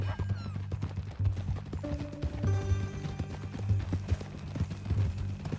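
Horse hooves clip-clop steadily in the Western video game Red Dead Redemption 2, a continuous rhythmic trot under a busy layer of game music and ambient sound, with no clear talk.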